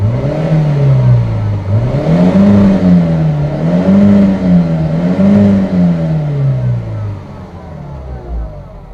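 A car engine with sugar in the fuel tank runs close by, its hum rising and falling in gentle revs, steady and fairly loud throughout.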